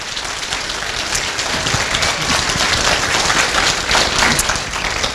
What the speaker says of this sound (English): I just want to give another recognition and round of applause to the young conservatives in this room.